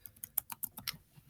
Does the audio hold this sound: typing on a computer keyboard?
yes